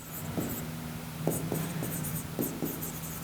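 Writing on a board or paper during a physics lesson, faint scratchy pen or marker strokes in short irregular bursts over a low steady background hum, with no voices.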